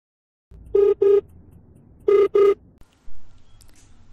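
Two pairs of short electronic beeps, like a phone dialing or ringing, with a brief softer tone near the end; quiet background otherwise.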